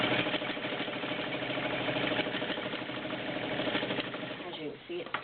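A Kenmore Model 50 heavy-duty 1.2-amp sewing machine stitches steadily with a fast, even mechanical whir and needle chatter, close and continuous, slowing near the end.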